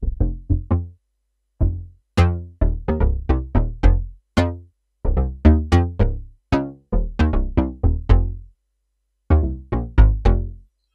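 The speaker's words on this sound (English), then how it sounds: "move on to the bass sound. It sounds like this" A Roland FA-06/08 SuperNATURAL synth bass patch plays a riff of short plucky notes with sharp attacks and quick decays, grouped in rhythmic bursts separated by brief pauses, with no voices.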